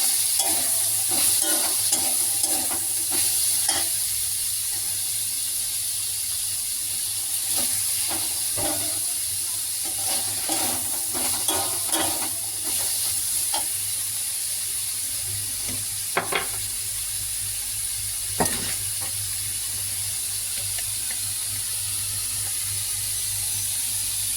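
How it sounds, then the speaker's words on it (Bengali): Chopped potatoes frying with pointed gourd in a pan, a soft continuous sizzle and hiss with intermittent spatula stirring and scraping clicks, fairly quiet and steady, no voices. "আলু দিয়ে একটু নাড়বো।"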